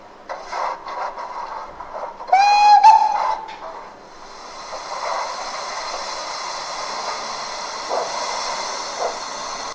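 Spur 1 model locomotive G 3/4 H with a sound decoder at a Munich running meet, giving a short shrill whistle followed by a steady steamy hiss and soft chuffing, close and fairly loud.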